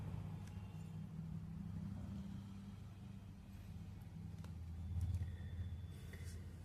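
Car engine easing off in an audio drama, a low steady rumble that swells slightly near the end, with no talk.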